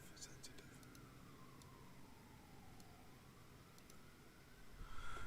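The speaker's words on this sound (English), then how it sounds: "Anyone hear the sirens and shit in the background?" Faint sirens wail in the distance across New York City, a thin rising and falling tone drifting low beneath a quiet hiss of city background.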